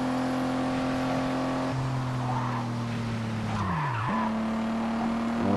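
A BMW in the Gear Club Racing game brakes hard with a loud, sustained tire squeal over a steady engine drone, the pitch dipping and recovering as the car skids for several seconds.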